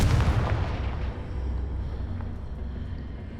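A Confringo blasting spell explodes in Hogwarts Legacy with a loud, booming burst at the start, then a rumbling tail that slowly fades.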